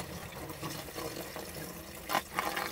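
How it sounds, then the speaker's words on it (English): Sewage water gushes and splashes out of an opened drain clean-out on a blocked household sewer line, a steady moderately loud wash of liquid with a brief stronger surge near the end. "Now you can see all that sewage coming out."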